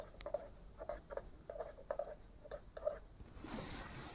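Pen scratching across paper as someone writes a math solution by hand, a series of quick, close scribbling strokes in irregular bursts, fairly quiet, with no talking.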